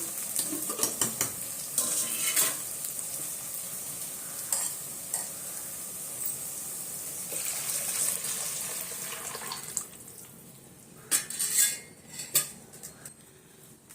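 Fish curry (meen kuzhambu) stirred in a pot after the broth is added to fried onions: a bubbling sizzle under repeated scraping and clinks of a spoon against metal, with louder clatters toward the end.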